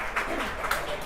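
Crowd applause after a shot at a lawn bowls mixed pairs final, a brief, soft patter of clapping heard from a distance.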